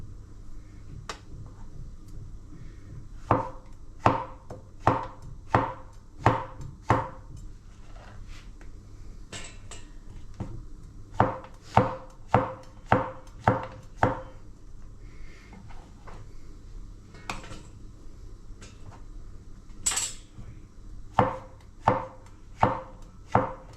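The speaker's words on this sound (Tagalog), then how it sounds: "gagayat na ako ng mga aking gulay" Haricot beans and mushrooms being chopped on a cutting board in a home kitchen: bursts of sharp, rhythmic knife thuds, close and loud, separated by short pauses, with no talking.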